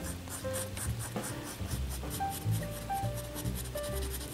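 A pencil drawing a goose's beak on paper: soft, continuous scratching and rubbing strokes, close and faint, with faint tonal background sounds underneath.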